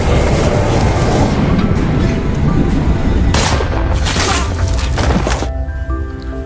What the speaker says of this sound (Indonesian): Saat itu, Juba menembakkan beberapa peluru ke arahnya.